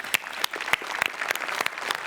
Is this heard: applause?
yes